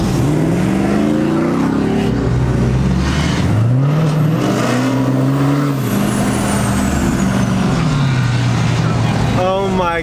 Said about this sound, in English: Look at this Cummins rolling coal.